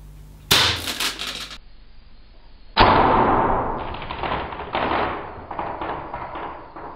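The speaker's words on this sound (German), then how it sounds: "Der erste Schuss, Colt Single Action Army Kaliber" A Umarex Colt Single Action Army CO2 revolver in .43 caliber fires its first shot: one sharp, loud crack ending in a short ring, then a second impact-like snap with a lingering rattle and a few smaller knocks fading away.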